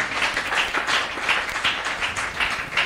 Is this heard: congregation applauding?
yes